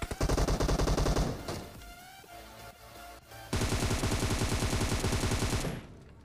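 Heavy, rapid automatic gunfire from a close firefight in the battle royale game PUBG Mobile, loud sustained bursts broken by a quieter stretch of scattered shots before another dense volley, with no talking.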